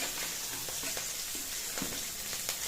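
Four fish pieces go into a pan already frying green chillies, producing a continuous close sizzle with small crackles and brief stirring scrapes throughout.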